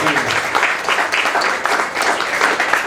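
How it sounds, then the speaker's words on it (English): An audience at an author panel applauds with steady, dense clapping that continues for about three seconds, with no speech over it. "let's give a round of applause to Jeffery Miller, John Bocskay, and Michael"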